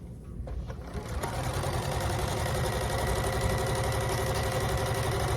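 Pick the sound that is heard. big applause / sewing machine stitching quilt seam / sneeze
sewing machine stitching quilt seam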